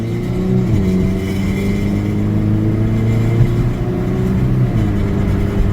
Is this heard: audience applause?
no